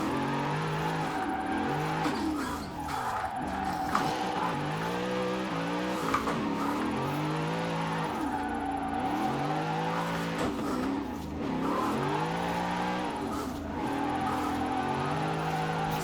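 A car drifting in Forza Horizon 4, the engine repeatedly revving up and dropping in rising and falling sweeps, with tires squealing through long slides; steady, close and continuous without talk.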